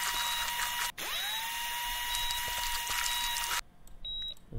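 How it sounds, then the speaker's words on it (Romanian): Whining surgical drill from the ear-surgery game Operate Now, a steady high electronic tone that spins up after a brief click, holds for several seconds, then cuts off abruptly, with faint beeps after. "Pick up the drill."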